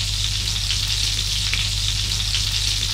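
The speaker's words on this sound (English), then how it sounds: "So the duck's been frying away for 8 minutes" Steady, close sizzling and crackling of duck breast frying in a hot pan, with occasional pops, continuous throughout.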